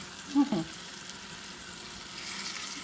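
Meat frying in a home kitchen pan gives a soft continuous sizzle, faint and steady, after a couple of brief clunks at the start.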